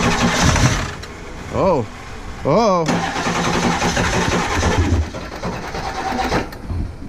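A Ford 7.3 diesel engine cranks over and struggles to start after its fuel ran dry, with a few short bursts of starter grinding between stretches of rough mechanical noise while people talk nearby.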